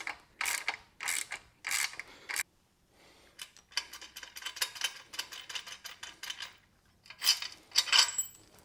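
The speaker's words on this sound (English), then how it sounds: "Once it starts moving, it seems that it's easy enough to do with a regular ratchet." A regular ratchet works loose the swingarm bolt on a Honda Grom motorcycle during a bushing replacement, making bursts of quick, crisp clicks in several separate spurts, close and fairly quiet with no voices.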